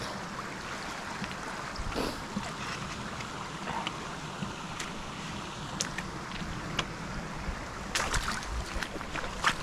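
Water rushes and sloshes as someone wades across a creek on a forest loop trail near Toccoa, Georgia, a continuous flowing wash broken by irregular splashes from footsteps, no talking.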